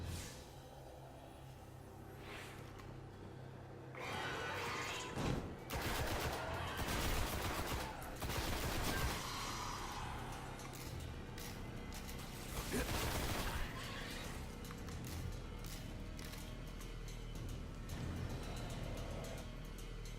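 Dense bursts of gunfire and weapon blasts from the video game Destiny, during an early combat encounter on PS4, loud and sustained over rumbling game sound effects, with some voices mixed in.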